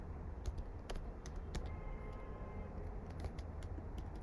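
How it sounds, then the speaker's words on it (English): Someone types on a computer keyboard, a quiet run of irregular key clicks over a low steady room hum, with no talk. "So I'm gonna type"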